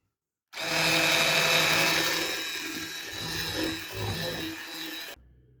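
An electric mixer beats cake batter with chopped walnuts mixed in. It starts abruptly as a loud whirring drone, then settles a little with bumpy variations as the beaters churn, and cuts off sharply near the end.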